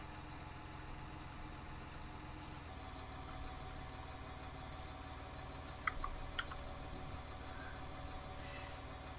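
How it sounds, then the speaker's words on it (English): In Farming Simulator 19, a tractor engine idles steadily while running hydraulics, a faint, even hum with a couple of small clicks and no voices. "Now we have to keep the engine running because they're using the hydraulics"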